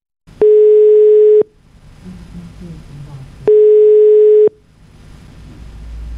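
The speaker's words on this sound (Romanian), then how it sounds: "Linia apelată este momentan ocupată." Two long, loud telephone busy-signal tones, each about a second, separated by a pause filled with faint background noise.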